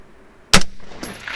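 A single sharp rifle shot from a BCA 20-inch M16A3 clone firing Hornady M193 ammunition on an outdoor range, a loud close crack followed by a fainter distant impact sound about half a second later.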